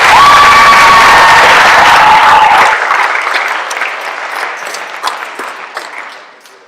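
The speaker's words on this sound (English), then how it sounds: "Let's give one more round of applause for these kids." At a Minnesota/USA Wrestling awards banquet, a crowd claps and cheers loudly for young wrestlers, with whoops and a high whistle early on. The applause cuts off sharply after about three seconds, leaving scattered claps and murmuring voices that slowly fade.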